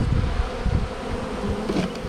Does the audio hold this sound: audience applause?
no